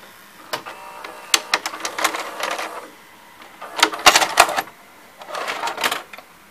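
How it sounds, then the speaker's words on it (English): A Sony SLV-760HF VCR's internal gear mechanism runs in bursts of rapid mechanical clicking and whirring, close and fairly loud, separated by short quiet gaps, with no talking. "Let's take a look at that gear in action."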